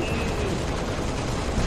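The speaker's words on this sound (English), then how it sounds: "I am being shot." Dense, continuous gunfire in the Halo Reach Firefight game mode, a steady rattling fusillade that carries on without a break through the short moment.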